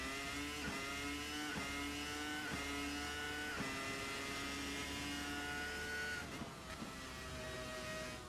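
A Formula RSS 2000 V10 race car in a racing video game at 1966 Spa howls at steady high revs, rising and dropping through gear changes in a continuous, loud engine note with no talk.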